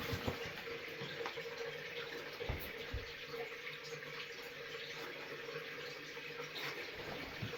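Water running steadily from a tap during a water change on a small aquascaped nano fish tank, a faint, continuous broadband rush that holds without pause from start to finish.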